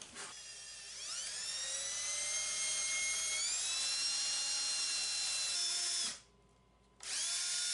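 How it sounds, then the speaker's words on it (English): A high-pitched power drill spins up and whines steadily through wood, its pitch rising as it bites in, then stops for a second before starting again. "now you're going to drill on the other side."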